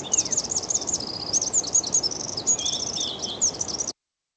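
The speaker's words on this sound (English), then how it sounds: "it sounds like there's two birds here." Two birds call over a steady hiss, trading quick high chirps and twittering notes for about four seconds before the sound cuts to silence.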